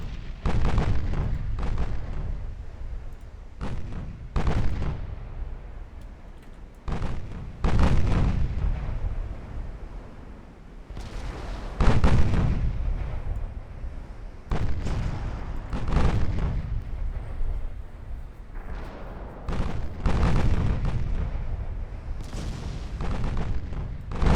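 Eight-inch secondary naval guns on Italian battlecruisers firing in the naval warfare game Ultimate Admiral Dreadnoughts, heavy booming salvos repeating irregularly every second or two, loud and close with rumbling tails overlapping throughout.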